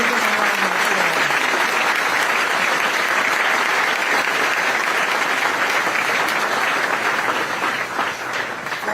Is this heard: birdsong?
no